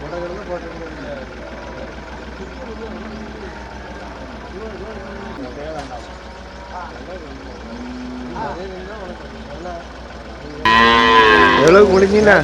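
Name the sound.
cattle mooing at Melapalayam cattle market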